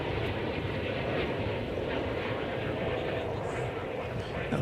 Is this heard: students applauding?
no